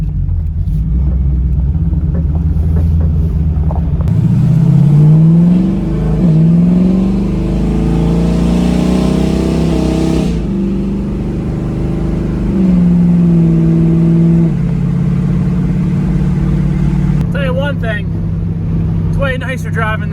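A Toyota Prius with a new battery is out on a test drive, giving a steady low cabin rumble with engine tones that rise and fall as it accelerates, under near-constant talk.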